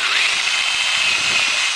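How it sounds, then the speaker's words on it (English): A power drill bores a hole through the center of a piece of wood for a Chinese flying top, giving a loud, continuous high whine that holds steady throughout. "drill our hole."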